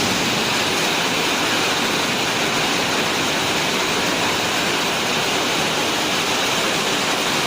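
Heavy hailstorm driven by strong wind in Cilembang, Tasikmalaya, a dense, steady roar of hail and rain that stays loud and unbroken throughout with no voices.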